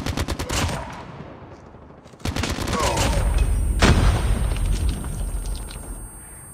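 Rapid bursts of gunfire open a Call of Duty Mobile firefight, fade briefly, then return as dense automatic fire with a loud grenade blast near the middle, continuing busy and close to the end.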